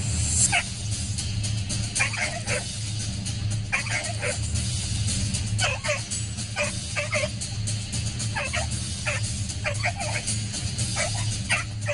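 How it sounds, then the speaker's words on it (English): A frightened dog whimpers and yips in repeated short, high bursts, fairly close, over a steady low background hum. "Dog Dog did exactly what any scared dog would do"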